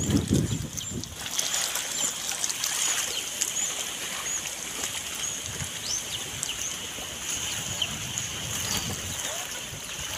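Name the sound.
sea waves during typhoon monsoon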